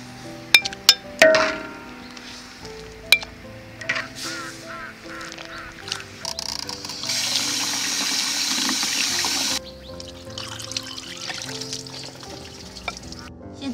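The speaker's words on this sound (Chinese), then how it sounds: "现在把煮好的山药装到清水里面清洗一下" Cooked yam rinsed in a bowl of clean water, with clinks of glass or ceramic, splashing and a steady stretch of running water from a tap in a kitchen.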